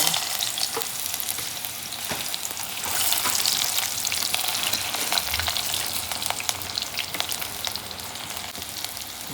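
Cumin seeds fry in hot oil in a pan, giving a steady, close sizzle and crackle that continues without a break and with no talking.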